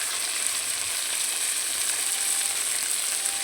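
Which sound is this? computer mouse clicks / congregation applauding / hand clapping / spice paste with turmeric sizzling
spice paste with turmeric sizzling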